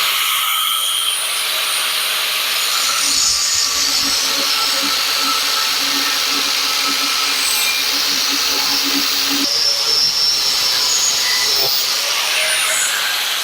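A cut-off wheel grinding through metal during a Jeep TJ cargo upgrade, a loud steady high-pitched whine that holds throughout with slight shifts in pitch.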